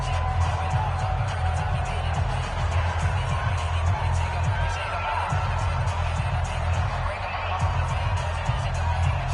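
Stadium crowd in a Madden football video game swelling with roars and cheers, a dense, loud, steady wash of many voices that holds throughout without a break.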